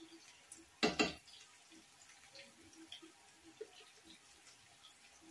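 A tablespoon of water goes into a hot cooking pan with onions for a Sylheti magur fish and potato curry, giving one short, loud hissing splash that fades quickly into a quiet kitchen.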